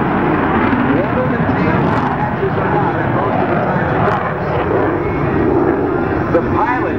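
The twin jet engines of an F/A-18C run at full throttle during a carrier landing, giving a loud, steady broadband roar that fills the whole stretch without letting up.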